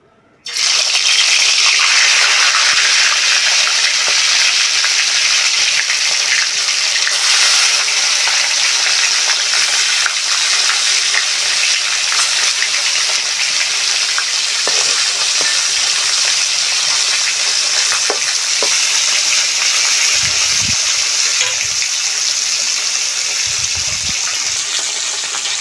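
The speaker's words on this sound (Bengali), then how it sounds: "এক পিঠ মাছ ভালো করে ভেজে নিয়েছি, অন্য পিঠও ভেজে নেব ভালো করে।" Fish pieces fry in a wok of mustard oil with a loud, continuous sizzling hiss that starts abruptly and runs unbroken for over twenty seconds, with a few faint knocks and scrapes near the end and no voices.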